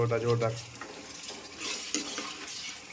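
Matar paneer curry being stirred in a pan, with scraping and clinking of a spoon against metal amid a soft sizzle; a brief low hum at the start.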